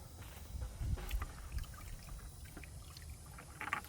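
Water is poured from a container onto the soil around a newly planted fig tree, a soft, faint trickle with a few brief splashes, heard alone outdoors.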